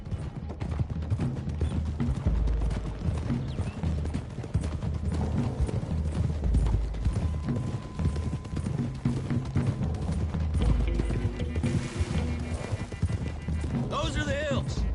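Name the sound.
horses galloping in the video game Red Dead Redemption 2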